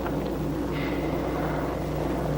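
A helicopter flies over mountain country, its engine a steady, droning rumble with a faint rhythmic chop, continuous and fairly close throughout.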